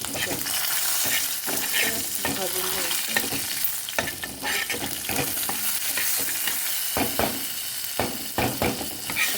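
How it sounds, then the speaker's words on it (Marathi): Whole spices and ginger roast in oil in a pan over medium heat, sizzling steadily up close while a utensil stirs and scrapes with frequent knocks. "छानसा भाजून घ्यायचा सर असे मस्त खडे मसाले आलं भाजून"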